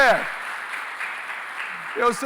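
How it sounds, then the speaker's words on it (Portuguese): A church congregation claps together during a sermon, a steady wash of applause heard alone between bursts of a preacher's voice at the start and end. "Aplaude Deus por isso, aplaude Deus"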